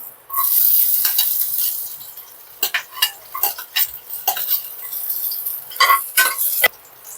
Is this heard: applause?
no